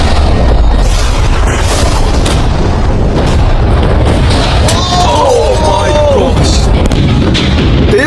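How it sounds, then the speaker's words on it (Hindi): A loud, deep boom from a Lamborghini in the world's largest shredder rolls through amid constant roaring machine noise, followed by a few rising whistling tones. "तेज धमाका था।"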